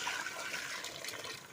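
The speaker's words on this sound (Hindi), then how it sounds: "अब हम डालने लगे हैं इसमें पानी।" Water poured into a pan of fried bones for a bone curry, a brief continuous splashing pour, fairly close, with no talk.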